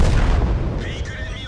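A tank cannon shot in World of Tanks, a loud, deep boom that opens the moment and fades into a rumbling tail, close and heavy.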